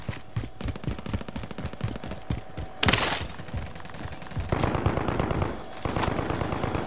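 Dense machine-gun and rifle fire crackles across a firefight in Call of Duty Warzone, long rapid bursts overlapping with louder nearby shots and distant exchanges, with no voices.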